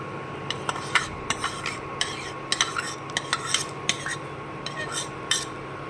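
Sago being stirred into boiled milk in a metal pot, a spoon clinking and scraping against the sides in quick irregular strokes over a soft simmering hiss, close by and without speech.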